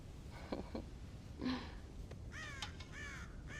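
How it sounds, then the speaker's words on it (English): Crows caw in the Western video game Red Dead Redemption, near a farm silo holding corn, giving several harsh calls at moderate distance, some single and some in quick clustered bursts, over a low outdoor ambience with no talk. "God damn crows!"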